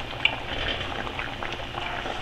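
Pineapple and mint dessert boils in an uncovered pressure-cooker pot, giving a soft, steady bubbling and simmering noise that stays fairly faint throughout, with no talking.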